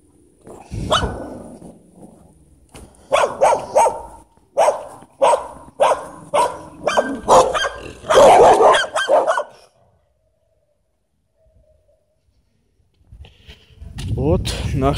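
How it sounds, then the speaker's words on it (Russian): Street dogs bark in a town courtyard on a summer evening, a rapid run of loud, close barks and growls that stops abruptly and is followed by a quiet stretch before more noise rises at the end. "Вот наши собачки"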